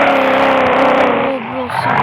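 A car drifts in a car game, its engine revving in a strained, rising-and-falling whine mixed with tire squeal, loud and close, then dipping briefly before surging again.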